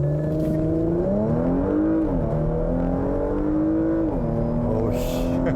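A Porsche Macan GTS (Mk3) accelerating hard in Sport Plus mode without launch control: the engine note climbs steeply, dropping at two gear shifts before rising again, loud and close throughout.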